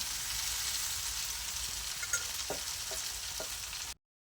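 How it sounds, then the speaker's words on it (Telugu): Bitter gourd pieces fry in hot oil with browned onions for a village-style curry, making a steady close crackling sizzle with a few light stirring taps before the sound cuts off abruptly. "కాకరకాయలు అయితే వేసుకుంటున్నాను కాకరకాయలను అయితే నూనెలో మగ్గనివ్వాలి కొంచెం సేపు"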